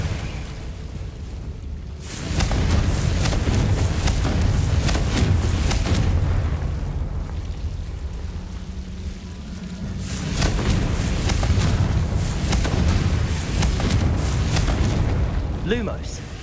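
Confringo fire spell explosions in the Hogwarts Legacy video game, loud rumbling booming blasts in two long sustained waves with sharper pops near the end.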